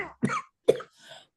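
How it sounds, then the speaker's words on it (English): Two or three short, dry coughs in a quiet room, followed by a softer throat-clearing breath. "I always said the cough was not serious"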